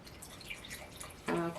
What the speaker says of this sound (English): So let's pour out our hard cider here.